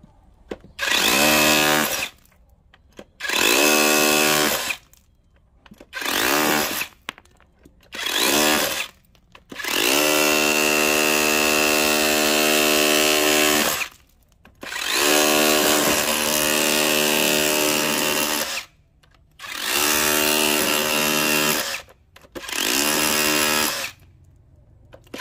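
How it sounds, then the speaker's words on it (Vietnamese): A DEKTON RH-2603 cordless rotary hammer fitted with a larger chisel bit runs in chiselling mode, pounding in loud bursts of a few seconds each, separated by short pauses, with one longer sustained run. "Bây giờ em sẽ chuyển sang cái chức năng đục các bác nhé"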